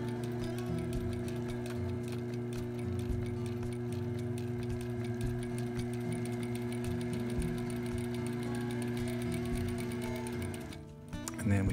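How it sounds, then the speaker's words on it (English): A sewing machine stitches the edge of a boot strap to its lining for custom python-skin boots. It runs as a steady, continuous mechanical whirr with a soft ticking rhythm, fairly close and not loud, pausing briefly near the end. "here I'm just sewing the edge of the strap to the lining of the strap"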